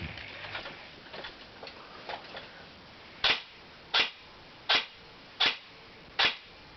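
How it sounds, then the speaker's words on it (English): An AGM SCAR-L full-metal airsoft rifle fires five sharp, evenly spaced test shots indoors at a target in a room, each a crisp close crack, following a few fainter clicks. "See the firing test. I have a target set up over here in my room."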